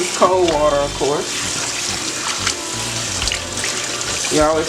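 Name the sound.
cold tap water running over raw chicken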